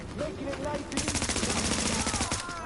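Rapid, steady SMG fire from a Striker build in the video game The Division, a fast continuous burst running for about two seconds with background game sounds beneath.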